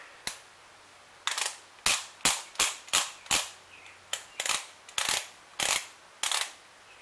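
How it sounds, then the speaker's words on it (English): A torque wrench on a Ford Ranger being set to 89 inch-pounds gives a string of sharp, loud clicks, about a dozen in uneven bursts, with no talking. "go ahead and reset my torque wrench"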